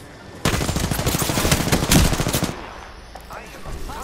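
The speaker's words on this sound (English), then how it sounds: "I have contact with hostile. Firing." Rapid automatic gunfire in Apex Legends, a dense burst of loud shots for about two seconds that then cuts off, leaving quieter game ambience with faint voices underneath.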